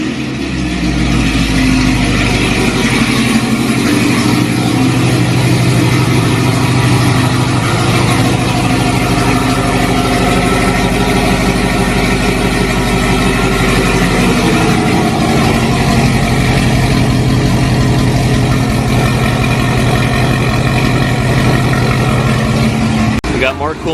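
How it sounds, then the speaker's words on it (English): A Corvette Z06 fitted with long tube headers and an AWE exhaust cold-starts and settles into a loud, steady rumbling idle with slight revving, close up, continuing for over twenty seconds. "let's go get a cold start in the car"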